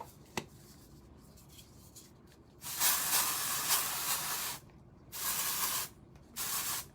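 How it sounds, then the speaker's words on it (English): Dry shampoo hisses from an aerosol can in three sustained bursts, the first and longest about two seconds, the next two shorter, close and fairly loud, with a faint click earlier and a quiet room between sprays. "He doesn't like the aerosol sound."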